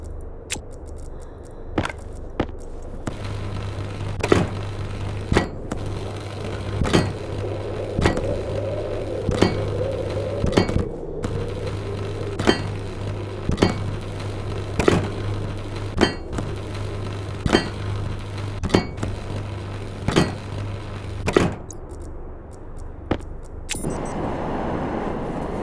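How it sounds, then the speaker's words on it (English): Welding tool in the space survival game Stationeers: a steady low hum broken by a regular series of sharp, clanking impacts, about one every second or two, close and without talk. "Should I weld the rest while I'm here?"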